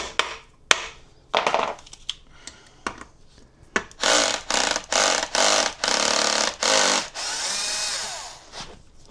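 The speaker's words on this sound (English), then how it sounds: "You can use a hammer and just this bit to hammer out and then unscrew it, just like that." A hammer and a bit drive out the front wheel bearing of a Xiaomi M365 Pro electric scooter, with a few sharp metallic knocks followed by a run of rapid, grinding bursts close to the microphone.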